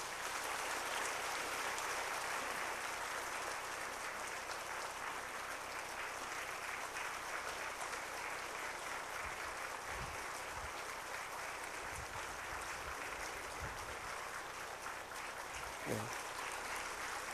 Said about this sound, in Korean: 뜨거운 박수로 축하해 주시면 감사합니다.